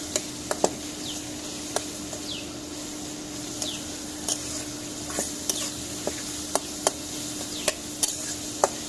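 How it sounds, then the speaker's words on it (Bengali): Food fries in a pan on a home stove while a spatula stirs it, giving a steady sizzle broken by frequent sharp scraping clicks in an irregular rhythm, close and clear with no talking. "আবার একটু নাড়া দিয়ে দিই।"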